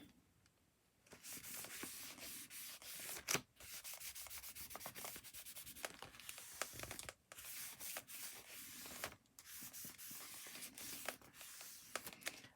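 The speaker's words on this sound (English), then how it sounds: "So I'll just rub that down a bit" Steady dry rubbing on the surface of a nature journal page, continuous close scratchy strokes with a few brief pauses, moderately quiet and without speech.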